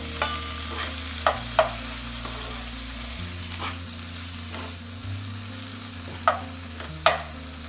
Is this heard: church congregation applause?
no